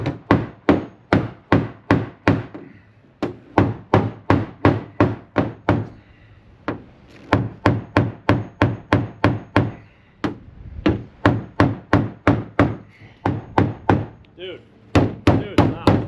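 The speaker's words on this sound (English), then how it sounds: "put it right on that high point and you just start tapping away like this" Hammer tapping the high point of a metal dent, a long run of sharp, evenly spaced close strikes in quick bursts with brief pauses between, each tap ringing briefly and fairly loud.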